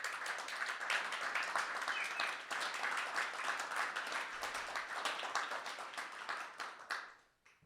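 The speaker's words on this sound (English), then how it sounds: "give yourselves a round of applause" Steady audience applause fills a small venue, a dense wash of many hands clapping at a distance that carries on for several seconds before fading out at the end.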